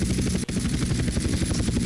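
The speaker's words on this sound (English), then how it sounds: "Pretty cool chopper, actually, and a lot faster than the other ones we've been using." Hunter attack helicopter in GTA San Andreas flying fast, a steady close rotor and engine drone with rapid chopping pulses running throughout, broken by one very brief dropout.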